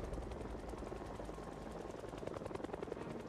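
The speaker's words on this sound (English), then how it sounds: "It almost sounds like two choppers." Helicopters fly overhead in the Project Zomboid game. A dense, continuous rotor chop churns steadily with a rough, layered texture, as if more than one craft is passing, and no voices are heard.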